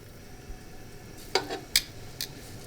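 Shrimp dropped into a pan of hot olive oil, giving a few sharp crackles and pops over a faint, quiet sizzle.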